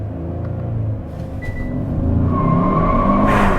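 A 2021 Hyundai Sonata N Line, a front-wheel-drive sport sedan in Sport Plus mode, holds a launch control start. Its close engine rumble grows steadily louder and the revs climb toward the end.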